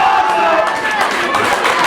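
Wrestling crowd at a no-disqualification indie match roars and cheers, a loud dense wash of voices close around, with commentary talk layered over it.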